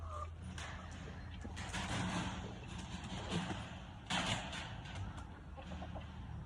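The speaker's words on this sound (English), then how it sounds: "I'm watching my chicken fail at roosting." A backyard chicken clucks and squawks repeatedly while failing to roost, heard close over constant rustling outdoor noise with occasional louder bursts.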